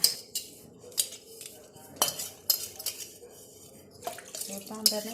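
Copper utensils rinsed under a running tap, with repeated metallic clinks and clatters of the vessels knocking together over a steady background of flowing water, close and fairly quiet.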